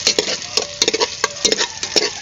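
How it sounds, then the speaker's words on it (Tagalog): Sotanghon noodles being stirred in a cooking pan, a rapid run of close scraping and clinking strokes over a faint sizzle. "Ato ra pong ugay-ugayon."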